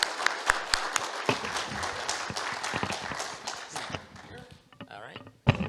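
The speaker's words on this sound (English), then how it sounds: "let's just give a round of applause for this" Applause from an audience at a church-leadership Q&A session, sharp scattered claps with distinct loud hits, fading to sparse clapping and then near quiet at the close.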